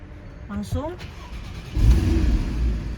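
A Porsche Cayman engine starts after a brief spoken word: it cranks and catches at once, then settles into a loud, close, steady rumbling idle.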